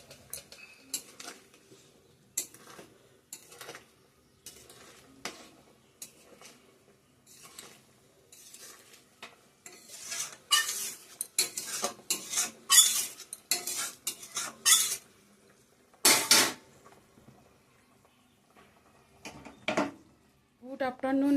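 A spoon stirs soybean curry in a metal pan as garam masala goes in, giving intermittent scraping and clattering strokes that grow louder and busier in the middle before tapering off.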